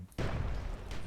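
Fire grenade going off in the fantasy strategy game Myth II: Soulblighter, a sudden loud burst that swells into a sustained roaring, crackling blaze lasting about a second.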